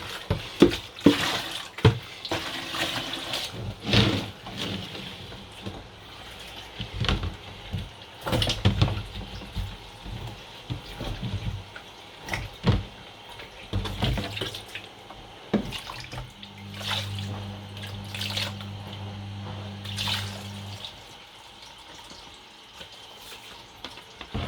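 Water splashing and pouring as cow skin (pkomo) is scrubbed clean by hand, with irregular wet sloshes and rubbing, moderately close, and a steady low hum joining briefly toward the end.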